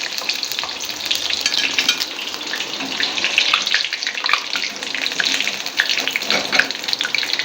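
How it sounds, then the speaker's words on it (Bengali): Dhoka lentil cakes deep-frying in hot oil over a lowered flame, a dense steady crackling sizzle that stays close and loud throughout with scattered sharper pops and no voices. "সমস্ত ধোকাকে আমি এইভাবে ভেজে লাল লাল করে ভেজে সব তুলে নেব"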